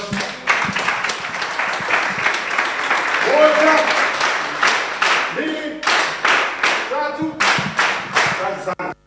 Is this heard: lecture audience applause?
yes